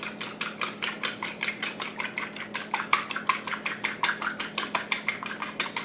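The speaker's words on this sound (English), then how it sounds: "we're going to beat the egg" An egg beaten in a bowl for fried green tomatoes with okra: fast, steady rhythmic clicks of utensil against bowl, close and clear, with no talk.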